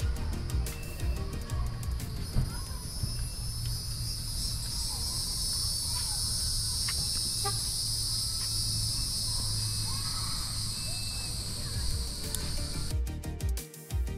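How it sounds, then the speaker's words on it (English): Cicadas buzzing in a tree at De Leon Springs park in Florida, a steady shrill high drone that holds for most of the stretch, fairly close, over a low background rumble before cutting off near the end. "we also found this tree that was full of what we believe are cicadas"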